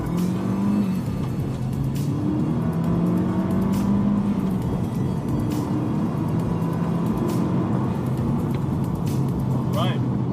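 A Mazda 6 2.3 turbo engine roars continuously under hard acceleration from first gear onwards, pitch climbing and dropping as it shifts through gears, loud and close throughout.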